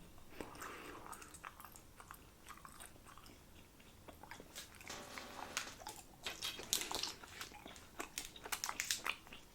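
Gum being chewed close to the microphone, soft wet smacks and squishy clicks repeating in an irregular rhythm, growing busier toward the end, quiet and without talk.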